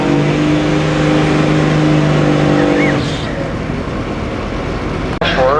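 A 2003 Duramax diesel pulling truck roars at full throttle during a truck pull competition, loud and close, with a sustained heavy drone that eases slightly partway through before a sharp break near the end.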